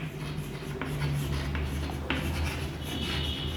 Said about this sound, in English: now we write the side of a square